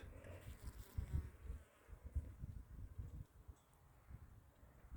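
Soft, low buzzing of bees flying around blossoms in a flowering garden, rising and fading as they move around, quiet and outdoors.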